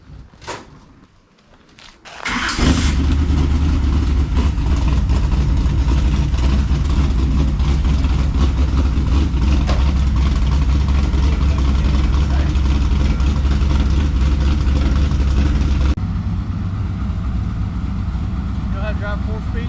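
A 1974 Camaro Z/28 with a 4-speed cranks briefly, then fires into a loud, steady, deep idle close by that continues to the end, settling slightly lower near the close, with voices audible over it.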